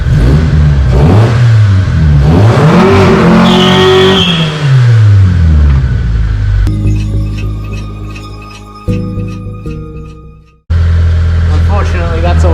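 A Mitsubishi Lancer engine revs hard, its note wavering up and down in loud close surges before falling away, then a sudden cut to a different steady engine drone.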